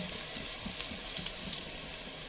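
Crushed garlic and a small piece of ginger frying in oil for tomato rice, a steady close hiss with faint crackles and one small pop, uninterrupted.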